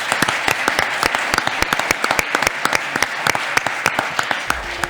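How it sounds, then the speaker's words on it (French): A studio audience claps steadily at the close of a French radio segment on Metz property, loud and sustained with sharp individual hand claps, easing off just before the end. "Sous vos applaudissements."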